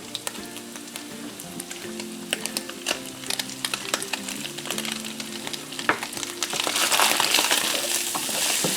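Ground beef browning in a skillet with salt, pepper, onion powder and garlic powder being stirred in: a steady sizzle punctuated by frequent scraping clicks of the utensil, swelling louder and hissier toward the end.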